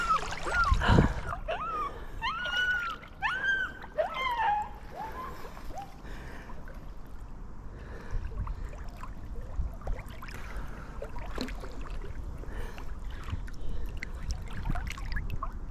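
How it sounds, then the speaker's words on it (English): A dog whines in a string of high, rising and falling whimpers beside a river, over the steady rush of flowing water, then the water carries on alone. "Not quite such a treat having a whingy dog with you though."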